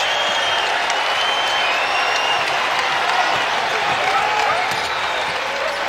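Basketball arena crowd at a college game between Utah State and Boise State, on its feet cheering and applauding in a dense, steady roar of clapping and shouts that fills the space with no break.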